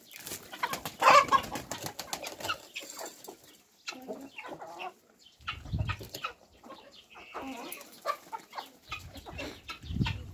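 Colourful mixed-breed domestic hens running in a backyard flock cluck in scattered bursts, several birds near and farther off with brief gaps of quiet between calls.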